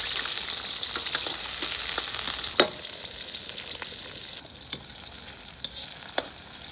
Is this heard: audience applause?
no